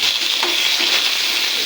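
Cut potatoes fry and get stirred in a pan, a steady loud sizzle with scraping stir strokes close by and no talk.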